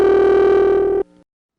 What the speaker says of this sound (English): the ring from the Chester vacant level trunk